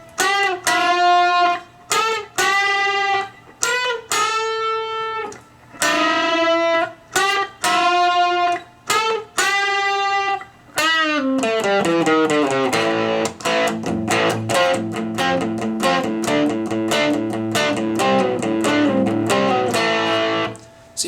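Distorted electric guitar playing a lead riff and solo, loud and alone, starting with separate sustained chord stabs and gaps, then moving into a fast, continuous run of picked notes.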